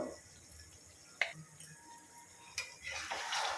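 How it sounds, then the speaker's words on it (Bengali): Chicken gravy stirred with ground pepper and garam masala in a pan, a spoon clinking and scraping against the metal in sparse ticks up close, with a soft hiss rising at the end. "গোলমরিচ গুঁড়ো আর গরম মশলা গুঁড়োটা দেওয়ার পর আবারও ভালোভাবে মিশিয়ে নেওয়া হচ্ছে"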